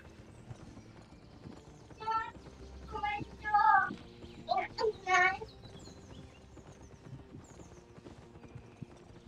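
Water buffalo hooves clip-clop in an ox race video game, with quick clattering bursts in the middle of the clip over a steady low background and faint chirps.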